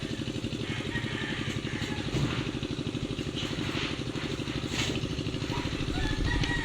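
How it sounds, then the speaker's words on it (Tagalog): A farm machine works in a rice paddy, giving off a steady chugging engine putter with rapid, even pulses and some clatter, moderately distant and unbroken throughout. "May nagmamakin na po doon ng palayan ah."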